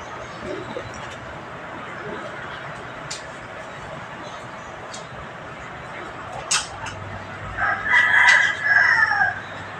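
A gamecock rooster crows outdoors, a drawn-out cock-a-doodle-doo rising near the end over a steady background hum, with faint clucks and some soft talk in the distance.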